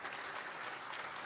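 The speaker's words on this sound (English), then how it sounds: "a round of applause for Dr." Brief burst of audience applause for panel speakers at a morning history talk on Tom Lea, LIFE and World War II; soft, even clapping heard faintly for just over a second.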